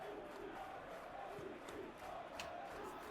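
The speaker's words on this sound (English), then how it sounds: "The ICU crowd are going wild." A stadium crowd in the football video game eFootball PES 2020 roars and chants in a faint, continuous wash, with a few sharper cheers rising briefly out of the murmur.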